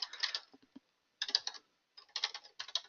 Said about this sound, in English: I'm just going to go ahead and type in